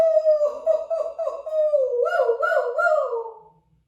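Several voices howl together in imitation of wolves, wavering rising and falling calls that swell, then fade out.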